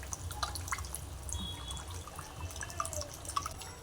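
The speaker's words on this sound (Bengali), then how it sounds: "তো এবার আমি একটু পানি দিয়ে দেব। পানিটা একদম অল্প করে দেব।" A small amount of water goes into a cooking pan, heard as quiet, sparse drips and trickles over a low background hum, faint and close.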